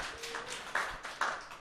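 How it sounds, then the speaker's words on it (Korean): A church congregation during a Sunday worship service gives a short burst of applause, scattered claps rising and falling in a small room, fairly close and moderately loud, with no voices over them. "네, 예, 영광의 박수."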